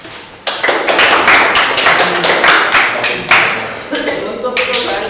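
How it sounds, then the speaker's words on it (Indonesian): A classroom group claps for classmates after their first experiment, a dense burst of applause starting sharply and continuing steadily, with individual claps standing out, plus light chatter underneath. "Kita kasih tepuk tangan."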